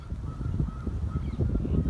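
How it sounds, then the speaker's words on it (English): Geese honk repeatedly at a distance over a rumbling, gusty background of wind. "So excuse the geese and the bit of the wind noise"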